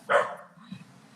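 A dog barks once, fairly close, in a short burst at the start of an indoor call, followed by quieter low rumbling and background noise.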